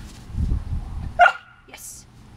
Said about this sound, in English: Got a bark on command.